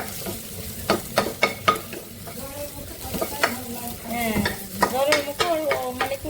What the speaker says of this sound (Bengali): এটা ভাজছি আগে বাটার দিয়ে ভেজে নিচ্ছি